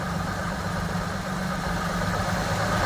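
A vintage MOPAR car engine idles steadily up close, a low continuous rumble with even vibration and no voices, its throttle shaft suspected of being worn.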